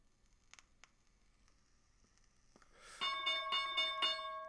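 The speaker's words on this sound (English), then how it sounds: "Here's the bell coming up in 5 seconds." Stock market opening bell at the start of trading: after a few faint clicks, a bright metallic bell breaks in loudly with rapid repeated strokes, ringing on to the end.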